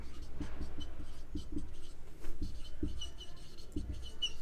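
Chalk or marker taps and short strokes on a board during a chemistry lesson, faint irregular scratches over steady room hum, with no voice.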